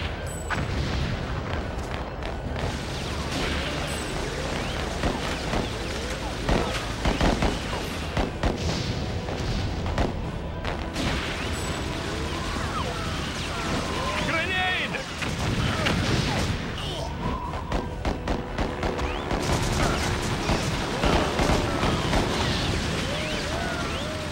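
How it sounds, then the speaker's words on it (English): Machine gun fire and explosions in the video game TimeSplitters: Future Perfect, with continuous loud bursts of shots and booms through a busy battle, and speech mixed in. "Rats, a machine gun nest."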